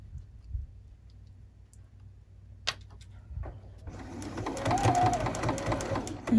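A sewing machine starts up after a quiet stretch with a few clicks, then runs steadily as it stitches binding onto a log cabin table runner, growing louder toward the end.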